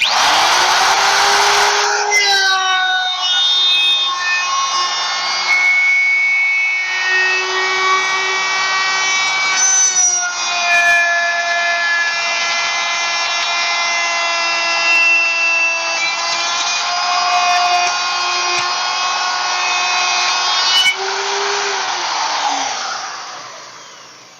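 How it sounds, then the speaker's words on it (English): A router cuts veneered wood with a climb cut followed by a cleanup pass, giving a loud, sustained high whine that spins up at the start and winds down at the end, with no talk. "when I go to cut with the router is I do a climbing cut first and then a cleaning cut second"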